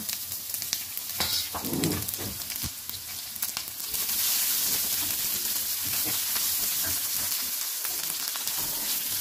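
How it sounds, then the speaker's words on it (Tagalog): Onions hitting a hot pan of browned garlic, a steady loud sizzle with stirring scrapes, intensifying into a dense continuous frying hiss partway through. "Ilagay natin ating sibuyas dahil ang ating bawang ay brown na."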